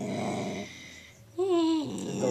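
A dog growls up close in two low, rumbling stretches separated by a short pause, the second rising into a brief whiny, tonal edge before settling back into a growl.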